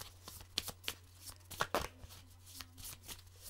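Tarot cards are shuffled and drawn by hand, giving soft, quick riffling snaps and brushing slaps in uneven bursts, close and quiet over a low background hum.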